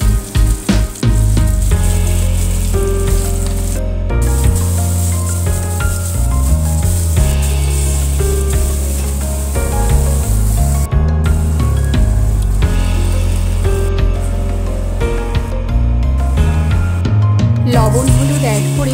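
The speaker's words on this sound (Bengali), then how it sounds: "পেঁয়াজটা অল্প ভেজে আমি বাটা মশলা দিয়ে দেবো।" Lightly sautéed onion sizzles in oil as ground spice paste goes in for an aar fish bhuna. The frying is steady and fairly loud, with stirring rubs, over a continuous tonal background.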